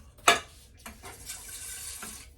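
Water splashes and runs into a pot in a home kitchen, filled to be heated, with a sharp splash at the start and a steady moderate flow after it.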